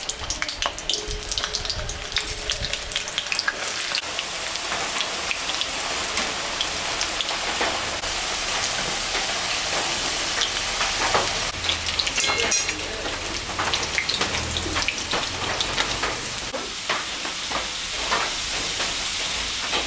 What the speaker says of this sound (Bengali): আলুটা আমি এখন ভাজে নেব।